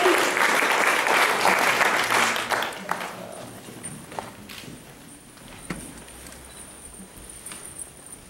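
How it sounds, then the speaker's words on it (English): A church congregation at a pastor's installation bursts into loud applause and cheering that fades over a few seconds. Scattered claps and small sounds follow in the quieter hall. "Since you are really excited and love cheering and clapping, I'll do the rest of it."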